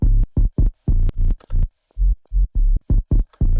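A sine-wave sub bass, heavily processed with Fat Rack compression and harmonic effects, pulses in short, punchy, distorted hits with brief gaps between them, loud and alone.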